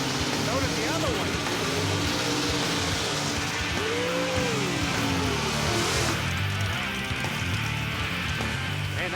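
Powerful drag racing truck engines rev and roar at Area 51 Dragway, passing loudly amid a noisy crowd, with people talking over the din.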